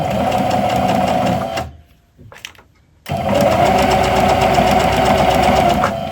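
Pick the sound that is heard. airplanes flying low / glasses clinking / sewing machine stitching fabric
sewing machine stitching fabric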